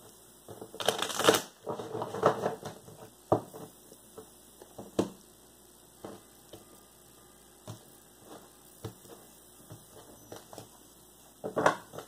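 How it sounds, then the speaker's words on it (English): Tarot cards shuffled by hand for a weekly reading, heard as bursts of riffling and soft slaps, a strong flurry near the start and scattered clicks and taps after, over a low steady mains hum, no voices. "Shuffle for Gemini."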